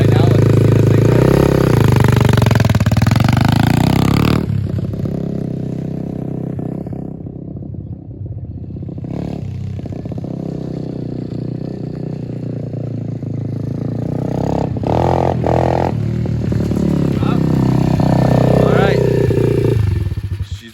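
Apollo RFZ 125 pit bike engine running on a Mikuni knockoff carburetor, a loud continuous close-up motorcycle drone that dips briefly and rises again with revving, clattering mechanical noise throughout.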